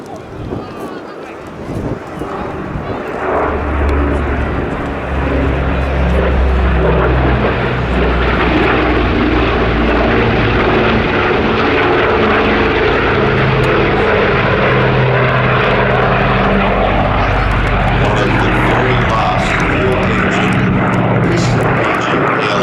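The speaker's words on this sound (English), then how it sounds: "This will be the last pass for this absolutely glorious DC-6 from Flying Bulls." Flying Bulls Douglas DC-6 propeller airliner making a loud, sustained pass at an air festival, its deep droning piston engines swelling and holding steady with no talk over it.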